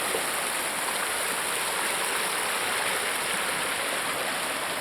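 A mountain stream flowing: a steady, dense rush of water, close and even from start to finish, with no voices.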